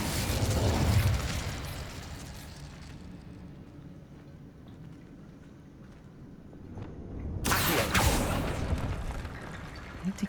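A loud fiery whoosh bursts in near the end after a quieter rumbling stretch, the Incendio fire spell cast in Hogwarts Legacy, with a heavy blast opening the clip.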